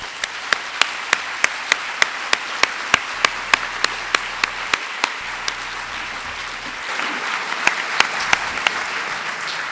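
An audience applauds to welcome a woman professor taking the stage at a church evening lecture. The clapping is steady and sustained, with sharp regular clicks over it throughout.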